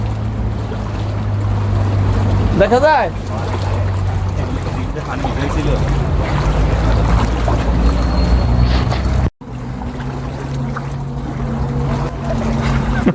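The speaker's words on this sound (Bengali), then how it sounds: "এই দেখো আমরা পানির মধ্যে হাঁটতেছি।" People wade through knee-deep floodwater on a Dubai street after heavy rain, with continuous sloshing and swishing of water close by under ongoing talk, broken by a brief sharp dropout.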